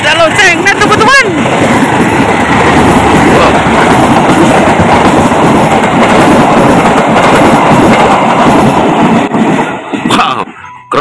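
A large wooden CC203 train speeds over a railway switch with a loud, continuous rolling clatter and rhythmic clicking of wheels, close and dominant throughout, with brief excited voices near the start.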